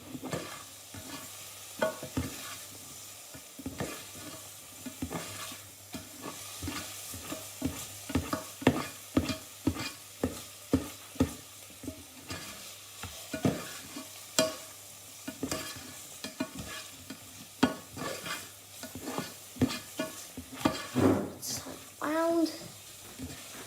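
A spoon stirs tuna pasta sauce in a pan, making a steady run of close scraping and clinking strokes with a soft sizzle underneath, while a voice talks over it.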